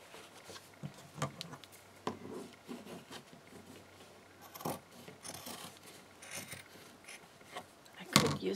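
Tote bag fabric is trimmed at close range, with soft irregular scissor snips and rubbing of the material, plus a few louder rustles and handling bumps, the loudest near the end.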